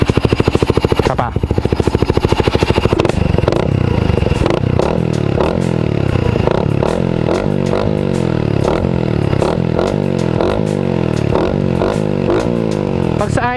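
The exhaust of a Suzuki Raider 150 Fi motorcycle with a stock muffler by VMAX Racing sounds up close. It begins with a loud, rapid idle putter and then rises into repeated throttle blips with rhythmic rising and falling roars.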